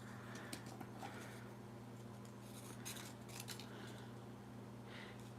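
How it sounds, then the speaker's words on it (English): Scissors fussy cut paper around a printed flower for a paperclip craft, making a quiet series of soft, irregular snips close by over a low steady hum. "maybe I can fussy cut around this flower"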